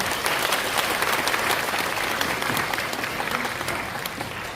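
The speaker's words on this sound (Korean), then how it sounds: "다시 한번 큰 박수 부탁드립니다" Dense, sustained audience applause fills the hall after a presentation at a residents' briefing on an apartment-complex reconstruction, loud and even throughout with no voices on top.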